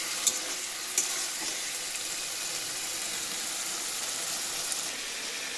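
Fish fries in spiced oil in a pan, a steady close sizzle with a couple of small pops near the start and no talking.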